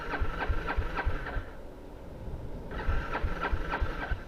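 A maxi scooter engine cranks repeatedly while struggling to start, rhythmic pulsing chugs that pause briefly midway and then resume, moderately close with no talk.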